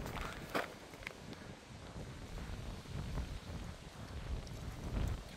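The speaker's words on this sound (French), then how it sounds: "j'entends un bruit de vent derrière" Wind gusting outdoors among trees, a rough, fluctuating rush with buffeting against the microphone that swells and eases throughout, loud and close.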